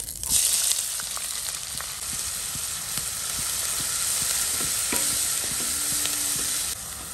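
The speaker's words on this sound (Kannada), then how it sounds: "2 ಮೀಡಿಯಂ ಸೈಜ್ ಈರುಳ್ಳಿಯನ್ನ ಗ್ರೇಟ್ ಮಾಡಿ ಹಾಕ್ತಾ ಇದ್ದೀನಿ" Two grated medium onions fry in coconut oil with a steady, close sizzle and occasional stirring scrapes, the crackle holding evenly throughout, no talking.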